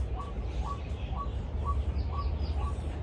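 Birds at a park bird sanctuary in Taipa, Macao call in a regular series of about six short chirps, moderately distant over low rumbling background noise and no nearby talk.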